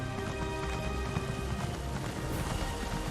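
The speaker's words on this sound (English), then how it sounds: "Use the horse to go up all these steps." In Elder Scrolls Online, a horse climbs a long flight of steps, its hooves clopping in a quick, steady, fairly faint rhythm over a low game background.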